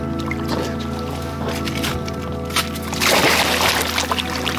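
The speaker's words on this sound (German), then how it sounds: "Ich spring rein" A person jumps into ice-cold mountain water at about 2000 metres altitude, with a close, heavy splash and churning slosh about midway, preceded by wet shuffling and movement sounds.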